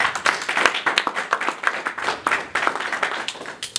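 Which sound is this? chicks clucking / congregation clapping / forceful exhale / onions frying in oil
congregation clapping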